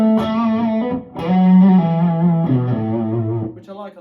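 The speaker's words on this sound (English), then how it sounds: "the old yellow box exotic AC booster, which sounds like this" An electric guitar played through a yellow Xotic AC Booster overdrive pedal sounds a short sequence of sustained, mildly driven notes and chords, close and fairly loud, with no one talking.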